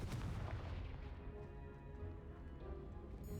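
Confringo fire spell blast in Hogwarts Legacy, a booming burst at the start that decays into a rumbling tail under game music with tonal lines, faint and alone without talk.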